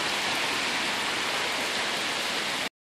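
Steady rain pours down around an outdoor workspace where a Jeep XJ is being worked on, a dense even hiss that continues loudly before cutting off abruptly near the end.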